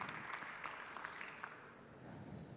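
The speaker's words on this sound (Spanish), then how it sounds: "Les pido un aplauso para Marta, por favor." Audience applause for a speaker at a public-opinion and government event, scattered clapping that starts moderately and fades into room noise, faint and distant.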